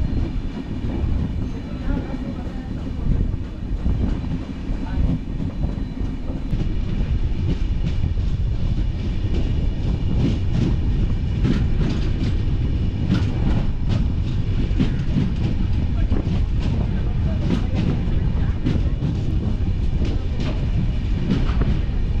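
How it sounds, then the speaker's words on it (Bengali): A Rameswaram–Bhubaneswar weekly express rolls into Ramanathapuram station, with steady loud rumble and rhythmic clickety-clack of wheels over rail joints throughout, a few sharp clanks standing out over the continuous roar. "নির্ধারিত সময় থেকে প্রায় 11 মিনিট লেটে আমাদের ট্রেন এসে পৌঁছলো রামনাথপুরম স্টেশনে"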